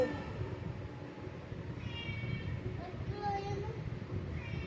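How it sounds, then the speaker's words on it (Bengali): A cat meows a few times close by, short and high, while children chatter in the background. "এখন ম্যাও দুষ্টমি করে তোমার সাথে না"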